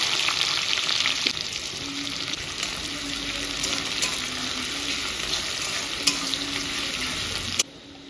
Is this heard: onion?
yes